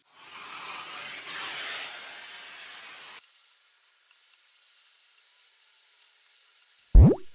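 Shark FlexStyle multi-styler drying damp hair, a steady airy hiss for about three seconds that then drops to a faint hum, followed by a sharp rising whoosh near the end.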